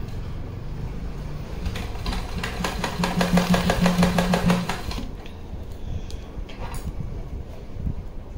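A sewing machine runs in a short burst, stitching a double-folded waistband on a lehenga, the motor whirring close for a few seconds before slowing and stopping amid quiet background noise.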